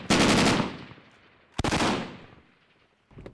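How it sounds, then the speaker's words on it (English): Heavy gunfire during a battle against insurgents in Helmand's Babaji district: two loud, sustained automatic bursts with long echoing tails, then the start of a third at the end. "They are under heavy fire, chasing insurgents in Babaji district."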